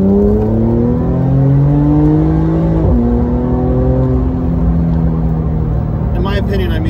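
Porsche 991.2 with Kline headers accelerating in second gear with exhaust valves closed, heard from inside the car as a steady, moderately loud engine drone rising in pitch, dropping briefly at a shift, with a voice talking over it.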